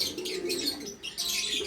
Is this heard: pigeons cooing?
yes